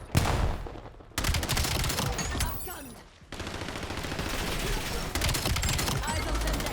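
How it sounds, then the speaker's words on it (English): A very fast-firing gun in the video game Black Ops 7 lets off dense, rapid bursts of shots, loud and close, with brief pauses between volleys and a short drop in the middle. "This is a very fast-firing gun."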